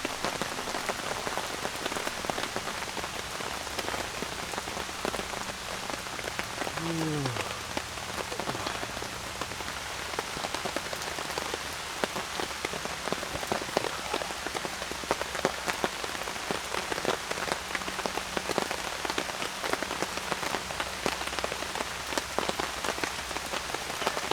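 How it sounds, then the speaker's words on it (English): Rain falling on a camping tarp, a dense, steady patter of drops drumming close overhead for a long stretch, with a faint bird call briefly rising through the rainfall. "Raining."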